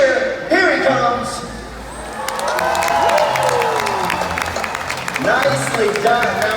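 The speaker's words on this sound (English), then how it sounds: "let's all give him a great big cheer" A SeaWorld Orlando audience cheers and shrieks as the orca Mikhail makes a big jump over a stage, the crowd swelling into loud excited whoops and applause, with a voice over a loudspeaker at the start and end.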